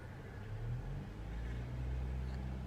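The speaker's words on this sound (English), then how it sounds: "If the car is on and you place petrol, you can even hear the sound." A car engine rumbles low and steady, rising slightly as if revved on the accelerator, with no voices over it.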